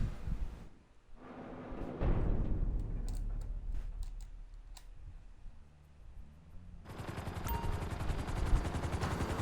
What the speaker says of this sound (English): we'll do the explosive sniper rounds.